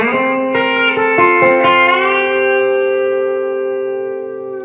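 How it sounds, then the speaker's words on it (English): A sustained B-bender electric guitar phrase with a few picked notes up front, then a chord bent upward and left ringing together, fading slowly. "we hit it and take the bender all the way up, and they're all ringing together"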